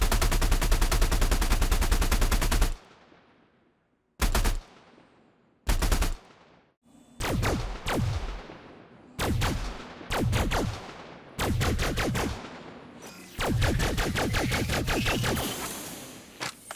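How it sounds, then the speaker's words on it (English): Gunfire in the Elite Dangerous Odyssey game, repeated bursts of rapid automatic shots separated by short pauses, loud and close, each burst trailing off in a slight echo. "You'll note there's a slight echo on the gunfire as well."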